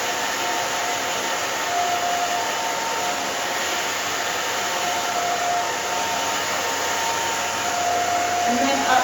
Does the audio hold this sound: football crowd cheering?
no